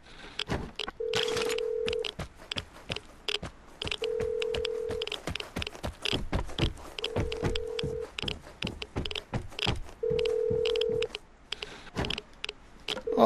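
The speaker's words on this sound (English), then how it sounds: "Let's just make a phone call and see where they're at." Telephone keypad in the game Vigor dialing a number, a run of evenly spaced beep tones, each held about a second, with faint clicks and background rustle between them.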